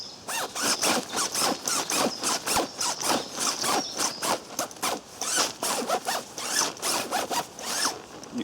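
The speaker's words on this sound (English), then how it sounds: "A nice big zip. A nice chunky zip." Big chunky zip on a DD Jura 2 sleeping bag being pulled open and shut repeatedly, a close, loud run of rasping zipper strokes in quick rhythmic bursts with no talk.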